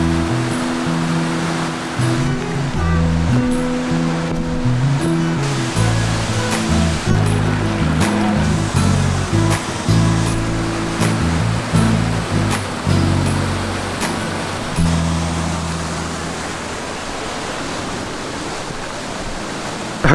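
The waterfall at Corbett's Glen Nature Park gives a loud, continuous rushing roar close by, with shifting tonal, music-like notes layered on top for most of the stretch, and no one speaking.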